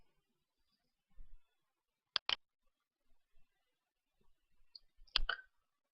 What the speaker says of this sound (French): Et je vais cliquer sur OK.